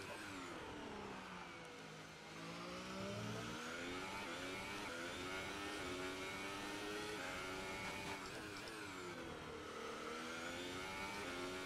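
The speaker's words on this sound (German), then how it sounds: "ich höre jetzt die ersten Motoren in der Box" Racing car engines revving and idling in the pits in the F1 2018 video game at the China round, rising and falling pitch sweeps layered together, steady and fairly loud, no voices.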